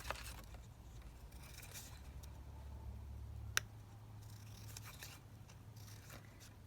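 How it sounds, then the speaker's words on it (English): Scissors cut down a paper label for a journal card, making soft, faint snips and rustles with one sharp click midway, close and quiet, with no talking. "So I'm just going to cut this label down."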